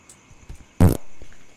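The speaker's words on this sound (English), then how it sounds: "He's farting. He's farting." A video game character lets out one short, loud fart burst among faint background game sounds. A second brief burst comes at the very end.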